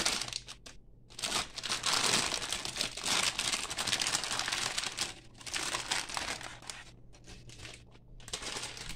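Plastic crinkles and rustles up close in repeated bursts as the bag from a Zvezda scale model kit is handled and pulled open, with short quiet pauses between.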